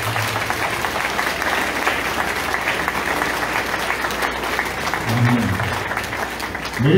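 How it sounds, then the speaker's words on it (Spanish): Steady, full applause from a sizable crowd at an anniversary church gathering, sustained without a break for several seconds, with a brief swell near the end. "Otro aplauso, por favor."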